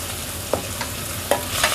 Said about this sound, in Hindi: तो अब हम इसमें डाल देंगे 1 टेबलस्पून लहसुन अदरक। अब इसको हम अच्छे से भूनेंगे।